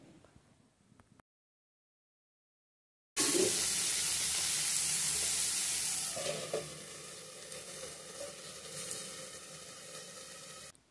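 Tomato and onion sauté in a pan with a bright, loud sizzle that starts abruptly after a quiet stretch, then eases slightly while stirring clatters and scrapes come through, close to the microphone.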